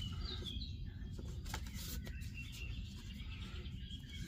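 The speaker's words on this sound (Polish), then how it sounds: "Ptaszki, żabki kumgają." Birds chirp in scattered high calls over a dense low croaking or rumbling bed that fits frogs, steady throughout with no talking.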